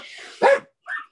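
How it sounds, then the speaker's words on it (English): Dogs barking loudly at close range, one burst followed by a second shorter bark after a brief pause, over a low background murmur. "my dogs are so loud."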